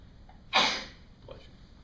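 A single short sneeze during a chemistry class, a sharp burst followed by a faint trailing breath against a quiet room.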